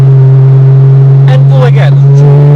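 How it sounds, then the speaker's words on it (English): A Porsche Cayman GT3 with PDK dual-clutch gearbox upshifts into fourth, its loud, steady engine drone running throughout with a brief shift blip near the middle, while a voice talks over it. "upshift to gear number 4"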